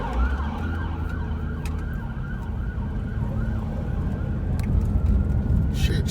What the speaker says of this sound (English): there's your Yakima sirens.